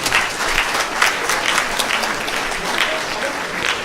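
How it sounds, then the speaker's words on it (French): Audience applause closing a YouTuber conference at the Perpignan Game Show 2018, a steady dense wash of many hands clapping, loud and sustained throughout with light crowd noise. "vous pouvez vous applaudir. Allez-y."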